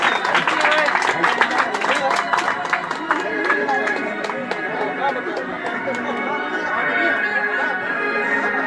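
Applause and crowd noise at a quinceañera party in Honduras, dense and continuous throughout with a mix of clapping and chatter, steady in loudness from start to end.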